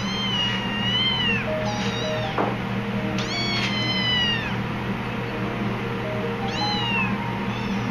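Several kittens meow repeatedly in short, high, rising calls, close and clear, over a steady low background hum in a pottery studio during a kiln opening.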